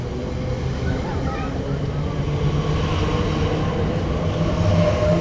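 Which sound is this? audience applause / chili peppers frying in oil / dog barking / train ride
train ride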